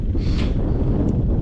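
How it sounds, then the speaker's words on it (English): Strong wind gusting across an exposed hilltop ridge in Ireland, buffeting the microphone with a steady low rumble and a brief airy whoosh, continuous and unaccompanied by speech. "And it is very windy."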